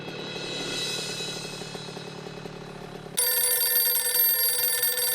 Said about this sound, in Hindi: फोन आ गया।